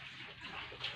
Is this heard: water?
yes